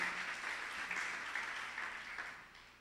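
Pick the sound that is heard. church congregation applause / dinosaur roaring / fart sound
church congregation applause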